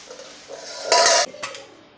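Cooked idlis are lifted out of a steamer pot with short metallic scrapes and clinks of utensils against the pot, close and brief, one louder scrape in the middle.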